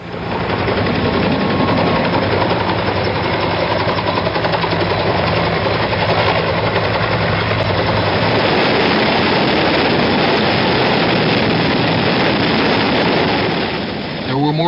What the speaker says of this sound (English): More than 80 helicopters shuttling people out to the carriers.